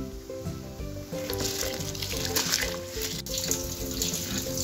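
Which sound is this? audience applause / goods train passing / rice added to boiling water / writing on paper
rice added to boiling water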